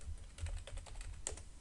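Quick, soft keystrokes patter on a computer keyboard in a fast run, faint and close, over a low background hum.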